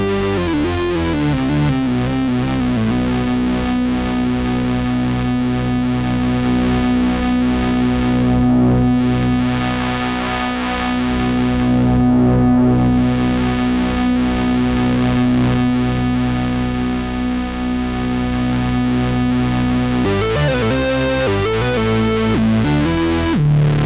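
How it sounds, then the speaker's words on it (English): Behringer Poly-D synthesizer played through its distortion effect, a sustained, buzzy, harmonically rich tone holding a steady note, with a shift in pitch near the end, loud and alone without any voices. "That's the distortion. Not that great, but at least I can manipulate it."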